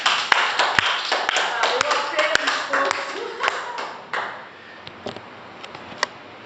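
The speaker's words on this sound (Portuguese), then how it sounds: "Vamos aplaudir o Senhor Jesus?" A church congregation claps for Jesus during a Brazilian service, a burst of sharp scattered claps that thins out and fades into a few isolated taps.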